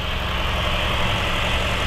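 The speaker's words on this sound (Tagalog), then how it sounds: "Pinaandar lang namin tong makina." A Honda Jazz engine, once seized and now repaired, idles at a steady, even drone, close and continuous with no voices over it.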